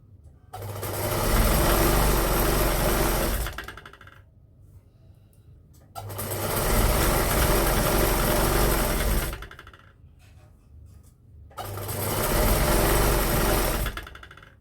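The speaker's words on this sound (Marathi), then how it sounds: "अर्धा इंचावरती एक शिलाई मारून घ्या" A sewing machine stitches lace-trimmed cloth for a kalash dress, running in three loud whirring bursts of about three seconds each with short quiet pauses between.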